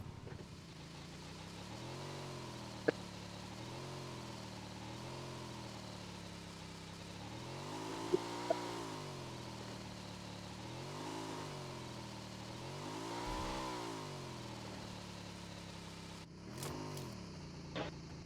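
A video game vehicle's engine revs in slow, repeated rising and falling swells over a steady low drone, moderately distant, with a few sharp clicks and no talk.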